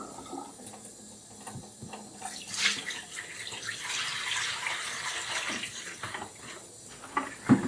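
A coffee machine waste bin from a Necta Opera Touch is rinsed under a running tap, water splashing and gushing irregularly, near and moderately loud with a few clunks of the bin, no talk.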